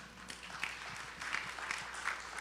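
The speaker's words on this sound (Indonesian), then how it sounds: "Tepuk tangannya bisa lebih semangat enggak?" Faint applause from a church congregation at a service in New York: a soft, continuous patter of many hands clapping, heard from a distance, with no one speaking over it.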